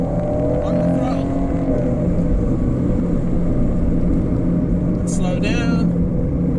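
A 2018 Chevy Camaro RS convertible's V6 engine pulls under throttle on a winding road, a steady loud drone with cabin and wind rumble, while a person talks over it.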